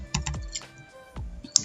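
Fingers tap out a password on a computer keyboard, a short uneven burst of close, crisp key clicks with a sharper final press and no talking.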